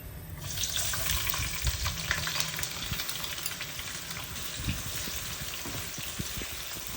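Thinly sliced onions fry in oil for a mutton biryani, giving a steady, close hiss and crackle that holds throughout with soft scattered pops.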